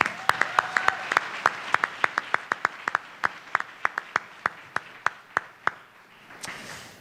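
A round of applause at a university leadership awards event, heard as a sparse series of about two dozen sharp, evenly spaced claps that fade into a soft shuffle at the end.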